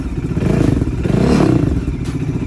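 Bajaj Dominar motorcycle with a mid-pipe semi-full exhaust running close by, a loud, bassy engine rumble that swells with a rev around the middle before settling back, no talking.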